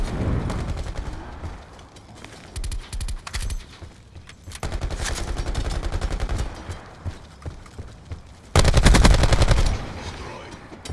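Rapid automatic gunfire in Call of Duty Black Ops 4, bursts of rattling shots with a louder close burst near the end, with voices talking in between.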